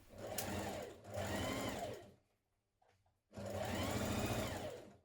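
A sewing machine stitching a 1.5 cm dress seam, two close bursts of fast whirring stitching, a brief near-silent pause with small clicks, then a third sustained run.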